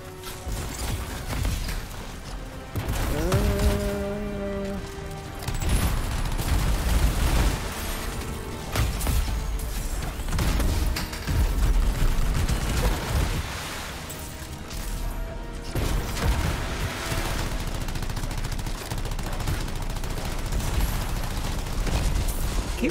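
Gunfire and grenade explosions in the video game Anthem form a dense, loud barrage of booms and rapid shots that runs almost continuously, with brief quieter gaps.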